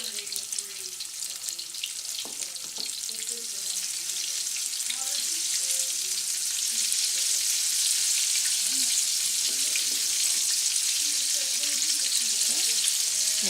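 Bananas fry in oil in a fairly shallow wok, giving a steady, close hiss of sizzling that thickens after a few seconds, with faint scattered clinks and kitchen noises underneath.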